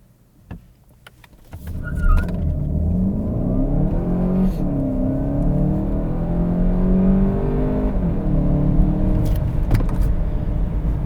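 A Volkswagen Golf GTE plug-in hybrid launches from rest and accelerates hard toward 100 km/h on a straight road, a brief clunk and rising motor whine building into a steady, strong engine drone heard from inside the cabin.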